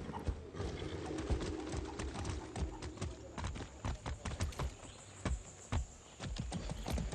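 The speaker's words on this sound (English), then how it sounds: "That's a good horse." Horse hooves clip-clop in repeated sharp knocks alongside a faint neigh in the Far Cry 6 video game, with soft background ambience and light speech.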